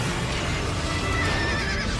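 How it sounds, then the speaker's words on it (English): A horse whinnies loudly and continuously over a dense, noisy background, with faint hoof clatter mixed in. "Hey, look, giant white horse."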